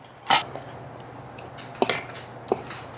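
A utensil clinks against a bowl in a few sharp, separate taps while Bisquick, brown sugar and cinnamon are stirred together into a topping, close and fairly quiet with soft scraping between the knocks.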